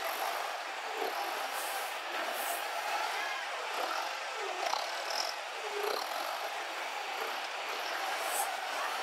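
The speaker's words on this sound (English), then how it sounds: "Now I'm going to push it forward with this, drive it around like that" A Toyota 8FGCU25 propane forklift, a 5,000 lb LP truck, driving around, with a steady broadband engine and rolling drone holding at a constant level, plus faint rattles and squeaks over it.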